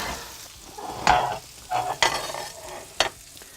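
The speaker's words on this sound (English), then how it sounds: "So all there with a lovely sizzle." Fish cakes shallow-fry in plenty of oil in a heavy pan. A steady sizzle sounds beneath several sharp scraping and stirring knocks that land about once a second.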